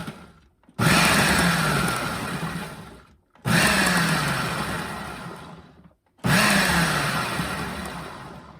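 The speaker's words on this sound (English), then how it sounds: "we're gonna pulse it until the pieces become rice-like in size" A food processor pulses cauliflower into rice-sized pieces in three loud, whirring bursts of about two to three seconds each, with short silent breaks between them.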